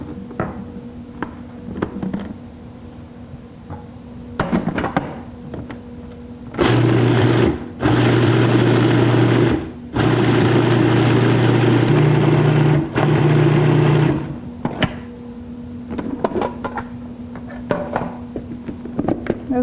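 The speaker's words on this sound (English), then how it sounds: "we're going to process this so it kind of grinds everything up into a fine flour or" A food processor grinds ingredients for a superfood recipe into fine powder, running loud and steady in several long bursts separated by brief pauses, with quieter kitchen clatter before and after.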